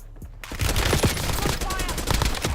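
An AK-74 fires fast automatic bursts in an online battle royale video game, loud and rapid with sharp repeated cracks that run through the whole stretch, coming in after a brief quiet start.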